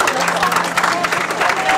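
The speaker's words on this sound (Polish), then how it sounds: "Wielkie brawa dla dziewczyn" Brief applause from the crowd at a triathlon prize ceremony, with a voice talking over the clapping throughout.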